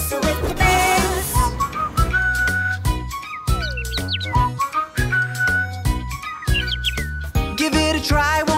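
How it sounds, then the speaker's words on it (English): Bright melodic whistling with chirpy bird-like tweets, set over a bouncy musical backing with steady beats; loud and continuous throughout. "Whistle with the birds, whistle with the birds."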